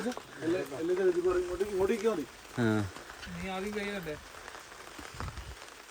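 Rain patters steadily on a surface in a jungle at night while people talk nearby, their voices rising over the wet background hiss.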